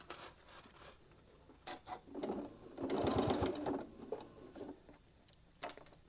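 Small sewing machine stitching over seams on a mini iron travel case, quiet bursts of rapid mechanical stitching with short pauses between, one louder run in the middle, heard close up and alone.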